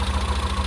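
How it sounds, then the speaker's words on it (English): A restored 1980s Toyota Tercel barn-find engine idles close by, warming up, with a steady low rumble and an even, rapid pulsing throb. "the engine sounds pretty sweet"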